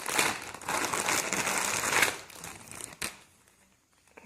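Crinkling and crushing of a plastic package as an action-camera chest-mount accessory is pried open, a dense close-up rustle lasting a few seconds, then a single sharp crack before it fades to near silence.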